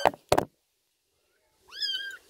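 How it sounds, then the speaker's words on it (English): A kitten gives one high, rising-falling meow near the end after two sharp knocks and a silent pause, close and clear with no talking. "Kittens just meow whenever you pick them up"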